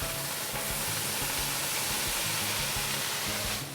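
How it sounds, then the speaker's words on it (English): Collard greens steaming in a hot pan, a loud continuous hiss and sizzle with a low rumbling bubbling underneath, steady and close throughout. "We're gonna create a little steam."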